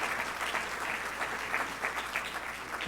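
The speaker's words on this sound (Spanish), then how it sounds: "Aplausos para él." Steady applause from an audience at a Peruvian Academy of Law incorporation ceremony, a dense, even patter of clapping lasting throughout at moderate level with no voices over it.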